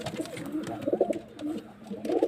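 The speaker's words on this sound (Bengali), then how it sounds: "প্রচন্ড রাগি পায়রা গা ফোলাচ্ছে" An agitated pigeon puffing itself up gives a close series of low, throaty coos, rising and falling in short bursts.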